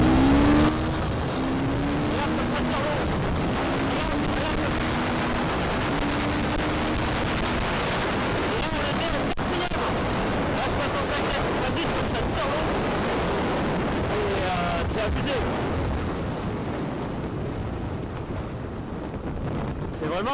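Husqvarna 501 FE supermoto motorcycle accelerating hard, engine pitch climbing through a gear with a rising tone, heavy wind buffeting the microphone and a rider's voice mixed in.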